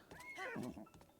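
A horse in Zelda: Breath of the Wild gives a short, quiet whinny that rises and then falls, about a second long.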